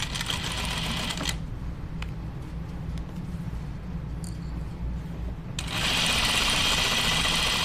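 Sewing machine double-stitching slacks: a short burst of fast stitching, a quiet stretch with a few faint clicks, then stitching resumes loudly and continuously to the end.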